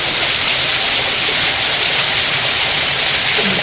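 Water runs over the falls at Fitzroy Falls in Morton National Park, a steady, dense broadband rush that fills the whole clip without pause and with no voices.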